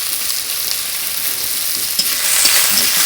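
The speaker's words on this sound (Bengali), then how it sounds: "কাটাগুলি ছাড়িয়ে প্রথমে আমরা পেঁয়াজগুলি ভালো করে ভেজে নেব" Onions frying in a pan for a fish bhorta, a loud, continuous close sizzle with a stir or two, rising slightly near the end, no voices.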